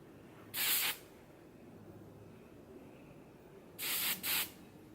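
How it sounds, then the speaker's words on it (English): Hairspray hisses onto short hair in three loud, close bursts: one early spray, then a quick pair near the end, with quiet room tone between. "Maybe I can tame my little hairs with some hairspray."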